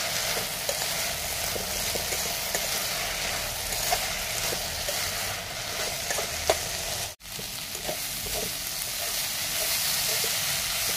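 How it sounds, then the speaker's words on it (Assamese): Joha rice fries in a pan with a continuous close sizzle, the crackle and hiss holding steady throughout with small scraping stirs and one brief break. "এইখিনি এতিয়া খুব ধুনীয়াকৈ ভাজিম।"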